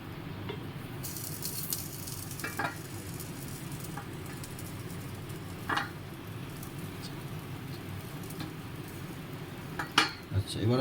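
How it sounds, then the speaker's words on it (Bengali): Eggplant pieces go into hot oil in a pan for masala begun fry, a steady sizzle beneath scattered clinks and scrapes of a utensil against the pan. "এরপরে আমরা বেগুনগুলো আস্তে আস্তে দিয়ে দেবো।"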